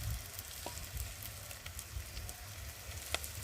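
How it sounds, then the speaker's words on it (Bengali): Onion frying in oil with turmeric, salt and chilli powder, a close, even sizzle with light stirring scrapes and a few small pops, no voices. "চলো পেঁয়াজটা একটু ভেজে নিই ভালো করে"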